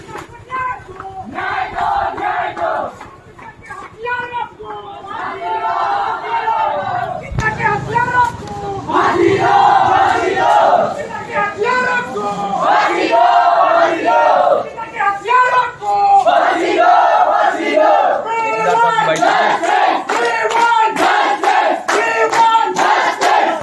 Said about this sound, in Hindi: ऐसे नारे यहाँ पर लगाए जा रहे हैं